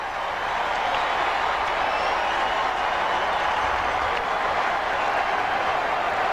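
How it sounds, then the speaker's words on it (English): Boston Red Sox fans cheering within a crowd of over 37,000 at the Oakland A's stadium during a 2003 baseball game, a steady, dense roar of crowd noise holding throughout with faint clapping mixed in. "you really hear from the Boston fans here in Oakland"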